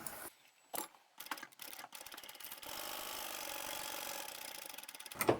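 A sewing machine stitches a large bag with internal and outer pockets, starting with a few short stop-start bursts of mechanical clatter, then a steady quiet run of rapid needle ticking, close up.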